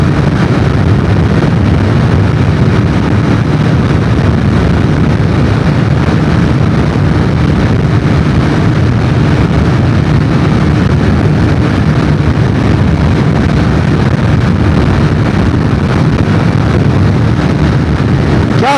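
A Triumph Tracker 400 motorcycle at about 165 km/h in sixth gear, heard as a loud, steady roar of engine and heavy wind buffeting on the microphone, unbroken throughout.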